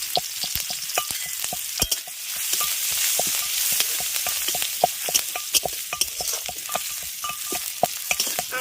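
Chopped green chili and crushed ginger fry in a pan with a steady sizzle, punctuated by frequent sharp clicks and scrapes of stirring, close and continuous.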